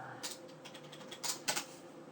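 Someone types on a computer keyboard nearby, producing a short run of irregular clicking keystrokes with a few louder taps near the end, no voices.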